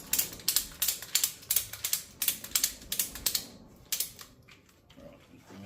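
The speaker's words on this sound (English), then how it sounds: "Then I'll just start ratcheting." Ratchet wrench clicking during a fork spring change on a Suzuki V-Strom 800DE motorcycle, a steady run of crisp close-up ratchet strokes in a regular rhythm that slows and fades near the end.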